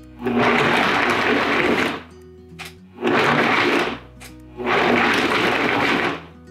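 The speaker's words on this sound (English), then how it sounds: "You want all the cashews to be blended nice and smooth." Blender blending cashews for vegan eggnog, three loud roaring bursts of about one and a half seconds each separated by short pauses, close and alone.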